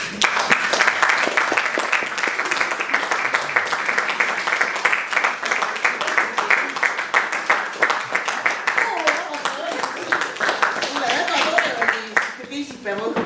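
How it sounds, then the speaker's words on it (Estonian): A theatre audience at a Kuusalu theatre performance gives sustained, loud applause with many hands clapping together, holding steady for several seconds before thinning out near the end, with voices occasionally heard beneath. "Muidugi lavastaja, kõige tähtsam, suur aplaus."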